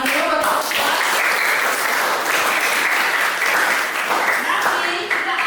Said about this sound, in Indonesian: Kita beri tepuk tangan dulu buat teman-teman